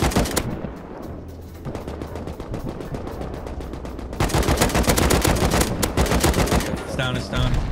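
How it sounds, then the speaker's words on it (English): Automatic and machine-gun fire crackles in dense, rapid bursts during a base raid in the video game Rust, growing louder and more continuous midway, with players' voices faintly mixed in. "Get ready to shoot, Blue."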